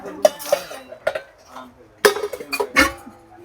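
A set of six bowls, six spoons and a tray clatter and clink as they are handled at a market stall, sharp close knocks in irregular bursts with a brief cough among them.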